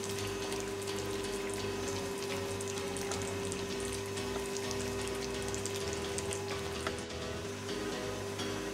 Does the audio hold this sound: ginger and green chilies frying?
yes